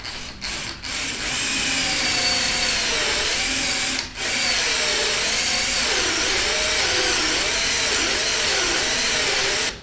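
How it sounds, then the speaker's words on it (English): A power drill bores into the wood left in the eye of an axe head, a loud steady whine with wavering pitch as the bit is pivoted, pausing briefly near the start and again around four seconds. "I'm going to try and waste some of the wood out of the hole by drilling it out with a drill bit."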